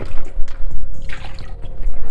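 Tap water runs and splashes over dishes being washed at a kitchen sink, a steady close trickle with small clinks, and no one talking.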